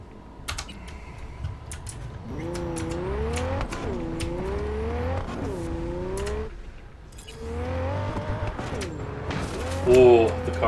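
A car engine revs in Cyberpunk 2077 Phantom Liberty, rising and falling in repeated swells over steady game noise, with sharp clicks and a louder burst near the end.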